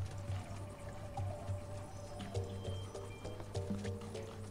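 Watery bubbling and dripping sounds from the piranha-filled water in the Rayman 2 game, layered over a steady low game music drone, continuous and moderately loud throughout.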